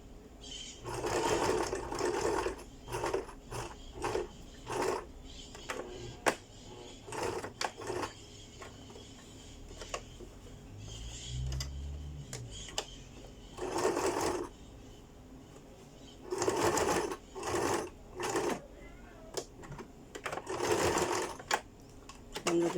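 A sewing machine runs in repeated short bursts of rapid stitching while a pocket is sewn, close and clear, with a voice talking in the pauses between runs.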